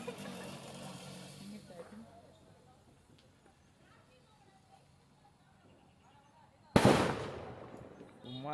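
A homemade country firecracker bursts outdoors during Diwali with one sharp, loud blast late in the clip, then leaves a fading crackle. Quiet background sounds and faint voices come before it.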